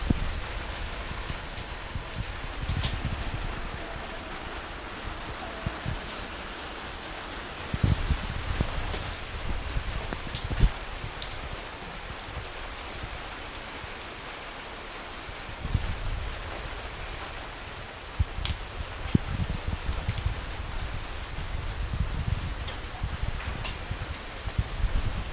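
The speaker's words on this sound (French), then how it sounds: "Je suis arrivé sous une pluie de ouf malade" Heavy rain pours down steadily in Hiroshima, a dense continuous hiss of drops striking surfaces, with occasional louder splashes and patters rising briefly above the constant downpour.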